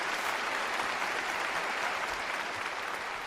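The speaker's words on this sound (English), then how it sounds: "play the fucking applause" Steady, dense applause from a crowd, a continuous wash of clapping that holds at an even level throughout.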